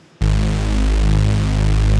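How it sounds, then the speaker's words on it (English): Pitched-down super saw bass synth pushed through distortion and light EQ, one loud sustained low note that starts abruptly after a moment of near silence, thick and buzzing. "all I did was add some distortion and a little bit of an EQ to make it hit more."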